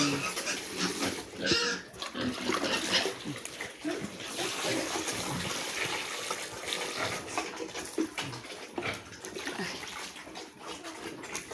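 Pet pigs drink from their water supply, grunting and slurping up close over steady running and splashing water, while a person talks intermittently in the background.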